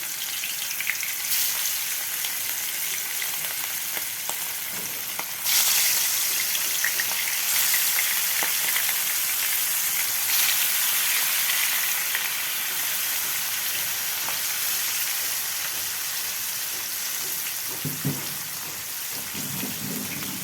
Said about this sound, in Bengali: দেখো তেলটা গরম হয়ে গেছে, এবার আমি মাছটা ভেজে নেব।